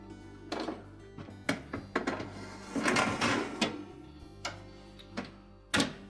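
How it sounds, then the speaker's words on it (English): Metal racks slide back into a Whirlpool range oven after a broil element repair, giving scraping rattles and several sharp clanks and thunks at uneven intervals, close and fairly loud. "So now we'll just put the racks back in the oven."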